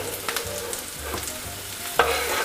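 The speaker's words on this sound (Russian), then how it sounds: "Посмотрите на эти перчики, уже видно, что они обжариваются." Bell peppers fry in a pan with a steady broadband sizzle, broken by a few stirring scrapes and a louder clatter near the end; no one speaks.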